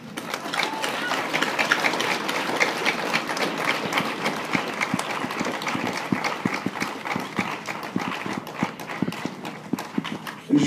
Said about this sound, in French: Je vous demanderai de vous applaudir cet après-midi.